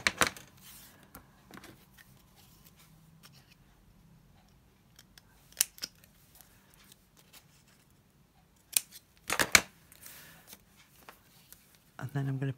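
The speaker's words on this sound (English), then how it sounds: "Trim them down and taper so that you don't see the corners of the folded card." Scissors snip through folded card stock for a digital hedgerow-themed embellishment, a few short, crisp cuts scattered between long quiet gaps, close and fairly faint, with a cluster of louder snips near the end.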